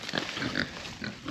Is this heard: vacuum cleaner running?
no